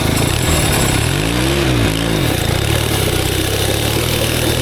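A homemade twin-cylinder, four-speed mini bike built from junkyard parts runs loud and close, its engine idling steadily with a brief throttle blip that rises and falls in pitch, the carburetor out of tune.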